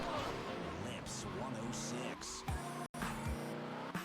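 Racing car engines roar steadily in GTA Liberty City Stories, with a brief dropout and a couple of sharp thuds near the end, while a voice talks over the continuous game audio.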